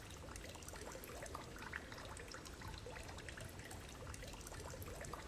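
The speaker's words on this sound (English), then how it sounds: "that water that you've just heard has now gone from my left ear to my right ear" Steady flowing, trickling water fills the space, a continuous pouring wash at moderate level with faint drips and splashes throughout, heard in a pitch-black tower setting.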